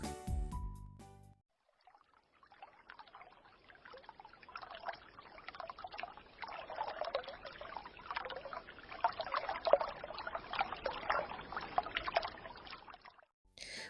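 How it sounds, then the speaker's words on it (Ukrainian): A trickling brook, soft bubbling and gurgling water that starts after a brief pause, rising and falling irregularly, fairly faint and alone, with a short snippet of other sound at the very start. "А зараз, малята, послухайте, як співає струмочок."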